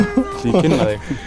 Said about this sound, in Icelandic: Nú köttur sveitarinnar.